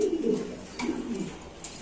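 Fancy pigeons at a pigeon farm give soft, low, rolling coos in short repeated phrases, close by, with a faint chirp here and there.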